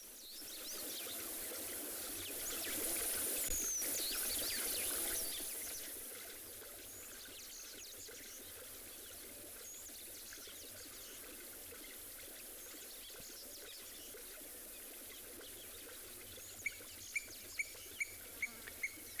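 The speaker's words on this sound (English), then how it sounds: "I'm just going to keep quiet a bit just to listen to this cat drinking" A wild cat laps water at a waterhole on a sunset safari at Tswalu. The soft, faint drinking sounds run through a quiet outdoor hush, with a few bird chirps and light ticks near the end.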